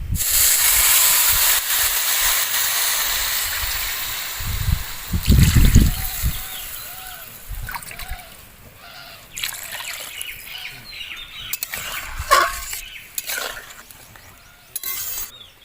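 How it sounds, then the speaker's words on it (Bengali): Water added to a hot pan of fried potatoes and pointed gourd, which sets off a loud hiss and a burst of steam that slowly die down into softer bubbling and crackling. "তো এর মধ্যে এবার আমি পরিমাণ মতো জল দিয়ে দেবো"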